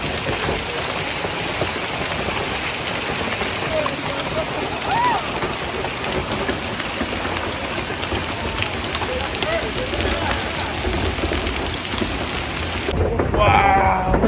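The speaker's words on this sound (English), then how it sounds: "it started hailing. The sky unleashed. Like golf-sized hail balls." Heavy hailstorm with golf-ball-sized hail, a loud continuous roar of ice and rain hammering surfaces, rising slightly near the end.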